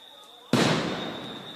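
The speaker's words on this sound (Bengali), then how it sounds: "আপনারা দেখছেন আবার সাউন্ড গ্রেনেড ছোড়া হয়েছে" Sound grenade blast during street unrest at Dhanmondi 32, Dhaka: a sudden loud boom that hits hard and rings out over a second, with a steady high whine and faint crowd noise underneath.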